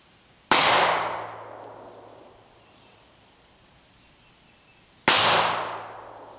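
Two sharp, loud gunshots about four and a half seconds apart, each with a long ringing decay, fired close up at a target on an outdoor range.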